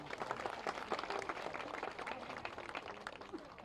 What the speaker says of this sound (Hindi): एक बार जोर से ताली बजाओ